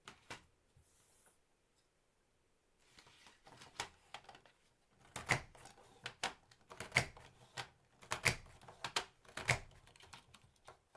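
A handheld craft punch snaps through paper strips during scrapbooking, a run of sharp close clicks and crunches, sparse at first, then in quick irregular bursts, with faint rustling between.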